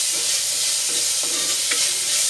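Onions sautéing with salt in a pan for a Malabar varutharacha chicken curry, a steady close sizzle with a few scraping stirs of a spatula and no talking.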